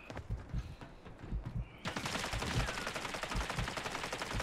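Rapid gunfire crackles through a squad shootout in a video game, sparse shots at first, then a dense continuous burst of automatic fire that keeps up steadily to the end, fairly loud and close.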